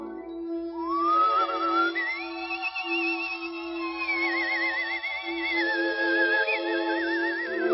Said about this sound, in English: Play the theme song, Mr. Conductor. Play it sweet, play it smooth.